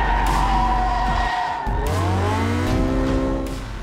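A McLaren P1 hypercar drives hard with loud, close engine roar and sustained tire squeal that rises and falls, with a brief dip in the middle.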